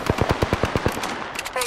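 Rapid automatic gunfire in Apex Legends on Nintendo Switch, a burst of about eight evenly spaced close shots followed by softer scattered clatter and game effects.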